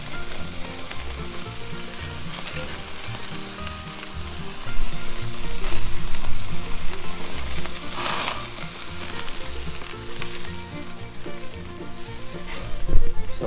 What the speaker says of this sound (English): Sound of the sizzle.